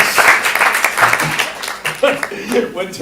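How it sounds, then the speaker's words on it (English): Audience clapping at a stand-up comedy student showcase, applause for the final performer rising under a host's voice speaking over it, moderate and uneven. "Give everyone a round of applause for our final performer."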